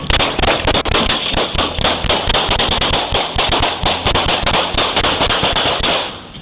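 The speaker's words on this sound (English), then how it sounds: "Suddenly, the suspect opened fire on the officers." Dense, rapid gunfire fills the whole stretch as police officers and an armed suspect exchange shots, cracking bursts overlapping almost continuously at loud, close range, with no talk.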